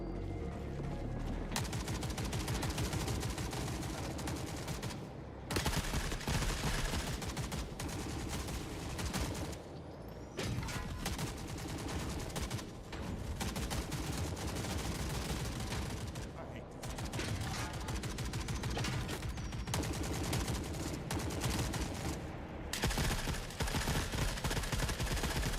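Automated turrets hammer out sustained machine-gun fire in the video game Forever Winter, dense bursts with mechanical clatter running almost continuously, broken by a few brief lulls, loud and close.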